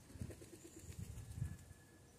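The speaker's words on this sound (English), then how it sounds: "By the way, there is a curious pigeon" A pigeon on a roof gives a few low, soft coos, faint and somewhat distant, over a quiet outdoor background.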